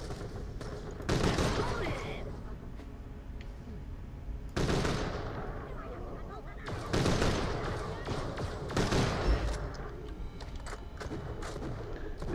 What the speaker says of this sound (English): It's like a laser shotgun rifle, isn't it?